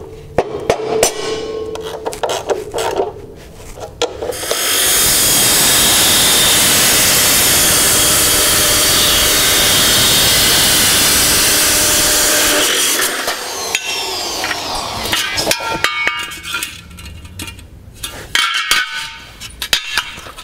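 A power saw cuts metal pieces for a lower unit service stand, with a loud, steady whine of roughly eight seconds between clattering handling and tool knocks.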